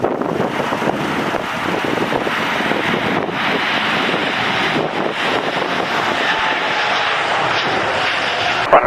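Fixed-wing airplane departing runway 28 right, its engines roaring steadily and loudly at close range, with wind buffeting the microphone throughout and no talk.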